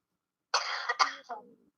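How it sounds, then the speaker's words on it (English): A woman gives a short, close cough that trails into a brief throat-clearing rasp, heard alone against silence. "she coughs."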